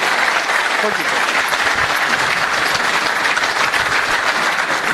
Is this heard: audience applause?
yes